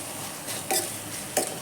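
Onion and tomato frying in a pan: a soft, continuous sizzle close by, broken by a few quick scraping stirs of a utensil against the pan.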